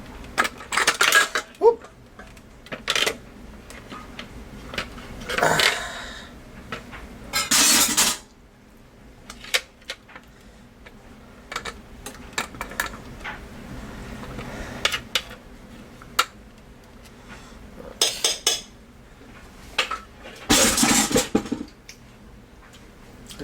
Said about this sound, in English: We get the scraper and we scrape out the part of our bisque that's clung to the